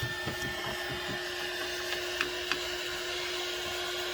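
A handheld heat gun blows hot air steadily over a napkin craft, a constant loud whooshing roar with a faint tonal hum and a few small knocks, with no talking.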